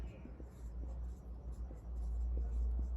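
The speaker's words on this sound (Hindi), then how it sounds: "यहाँ लिख देता हूँ" Handwriting on a board or page during a history lesson, soft scratching strokes coming in short bursts over a low, steady background hum.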